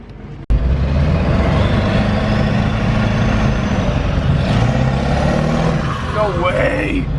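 A straight-piped 7.3 diesel work truck drives with a loud, steady exhaust drone and rumble close by after a sudden start, and a person talks excitedly over it.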